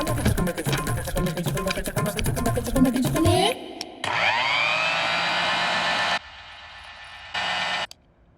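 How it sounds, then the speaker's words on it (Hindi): An electric mixer grinder is switched on in a kitchen and whirs with a loud steady motor drone. The drone starts and stops in bursts after a dense stretch of movie soundtrack noise. "एक बार मिक्सर ऑन करके सुनाइए"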